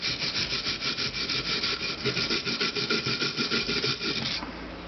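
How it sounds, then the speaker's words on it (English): A steel wire brush scrubs corrosion off an aluminium front brake caliper bracket from a CX500 motorcycle, with close, loud, rhythmic rasping strokes in rapid succession for several seconds before stopping abruptly, no voices. "Clean the holes here and there, and take a steel brush"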